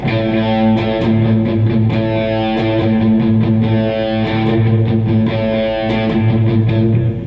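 Distorted electric guitar alternate-picks rapid, steady sixteenth notes on one string in a continuous stream, loud and close, with no voices.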